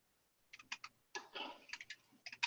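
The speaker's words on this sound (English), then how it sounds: "You just cutting them with a pair of scissors?" Scissors snip through resistor leads during an Apple II LED build, giving quiet, sharp clicks in short irregular bursts separated by brief pauses.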